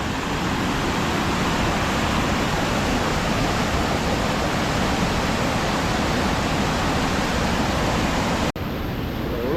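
Kaveri river near Mysore in August monsoon flood, a loud steady rush of water roaring without pause, close by, broken by a brief dropout near the end.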